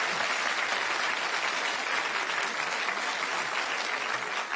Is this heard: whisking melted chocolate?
no